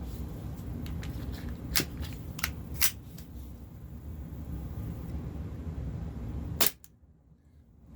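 Smith & Wesson M&P 9C airsoft pistol firing 6mm BBs on green gas: a few sharp, spaced cracks over steady background noise, with a final loud shot near the end before the sound drops away.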